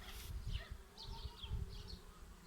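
Honey bees drone steadily at a hive just opened for the first inspection after winter, a soft continuous buzzing with brief louder passes as individual bees fly close.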